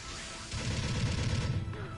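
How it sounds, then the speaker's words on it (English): Rapid gatling fire from a shield-mounted weapon in the mech combat game Gundam Battle Operation 2, a dense, continuous burst of low rattling shots that starts abruptly halfway through and holds steady to the end. "if you're going to use the Gatling shield, make sure you're fully stopped so you can take advantage of the damage"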